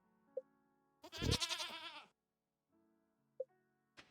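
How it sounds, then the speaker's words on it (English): A little pig in the farming game Stardew Valley lets out a single loud, wavering, bleat-like squeal lasting about a second, with soft clicks before and after. "Oh my, this is my new little pig"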